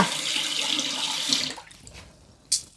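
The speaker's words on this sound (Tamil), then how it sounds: "இந்த தண்ணி எடுத்து இப்படி வடிகட்டி வச்சுக்கணும் பானையில் ஊற்றுறதுக்கு" Water being poured and strained for cooking Pongal rice in a home kitchen, a steady close splashing stream for about a second and a half, then stopping, followed by a single sharp clink.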